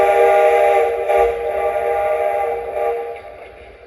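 A steady, sustained model train whistle from a Lionel model engine with layered harmonic tones, held for several seconds and slowly fading, no talking.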